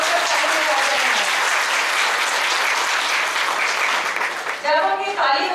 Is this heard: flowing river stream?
no